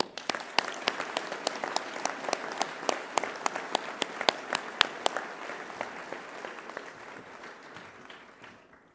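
Applause from a school prize-giving audience honouring Year 11 prize-winning students, a dense steady patter of many hands with sharp individual claps standing out, fading gradually toward the end.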